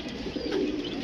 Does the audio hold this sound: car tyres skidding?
no